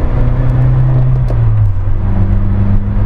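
A Toyota MR2 AW11 with its 100 hp engine humming steadily behind the cabin while driving, a low droning rumble with shifting tonal whine and road noise, continuous and close.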